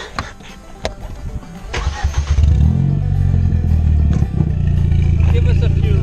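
A stage-tuned Ford Focus ST cranks and fires up, a few clicks and a short starter whine giving way to a loud, rumbling idle heard from close behind the car, with people talking briefly.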